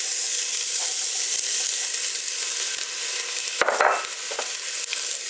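Onions hit a hot pan and sizzle with a loud, steady frying hiss, broken by a few brief stirring scrapes, close up with no one talking.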